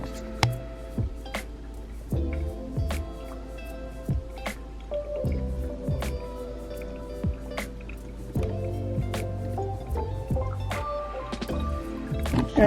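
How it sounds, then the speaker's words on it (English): Coffee drains through grounds in a Chemex brewer, giving soft, irregular drips and small liquid plinks, close and fairly quiet, with no talking. "Gonna wait a few more seconds to let that drain down."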